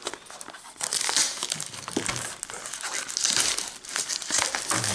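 Plastic wrap crinkles and crumples continuously as a French-language Magic: The Gathering Commander Legends draft booster box is unwrapped, a close, busy crackling that runs the whole time.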